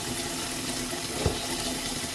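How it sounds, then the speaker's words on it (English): Callaloo leaves being washed in salted water, a steady running and sloshing water sound close by with one brief splash, no talking. "I'm going to wash my calalloo first."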